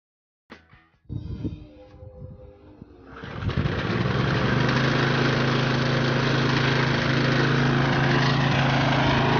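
A lawn mower seized for seven years, with a freshly cleaned spark plug, is cranked by hand: a few rough pull-start bursts, then the engine catches on the first pull and settles into a loud, steady running drone.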